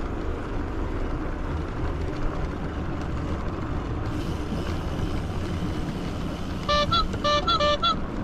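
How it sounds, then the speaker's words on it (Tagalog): A small horn on a bike during a spring ride from New Westminster to Richmond, several short beeps near the end over steady wind and road rumble. "Buhay pa yung ano ko, busina ko."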